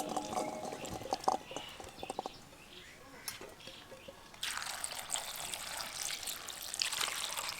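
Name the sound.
washing grapes with water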